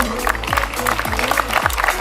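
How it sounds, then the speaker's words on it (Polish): A crowd at an outdoor company anniversary picnic claps continuously, brisk and even, with a thumping low beat running beneath the applause. "Brawa dla pana Adama"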